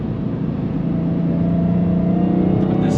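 A supercharged 2023 Dodge Challenger Hellcat Jailbreak engine holds a loud, close, steady droning rev that climbs slightly in pitch.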